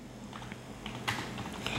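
Quick typing on a computer keyboard, light clicky keystrokes in a short irregular burst with a sharper tap near the end, close and fairly quiet.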